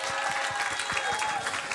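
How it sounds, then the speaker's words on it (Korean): Church seminar audience applauding, a dense steady patter of many hands clapping together, fairly loud and continuous for a short burst. "우리 박수 한번."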